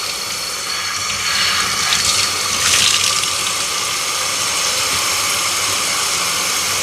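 Tap water streams steadily onto a Bissell PowerGlide Pet vacuum filter as it is rinsed and soaked, a loud, close, continuous splashing gush with slight swells.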